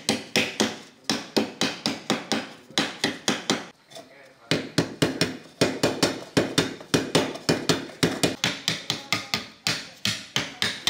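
Steady hand hammering on aluminium sheet in a traditional craft workshop: rapid, evenly spaced sharp metallic blows in long runs, loud and close, with one brief pause before the striking resumes.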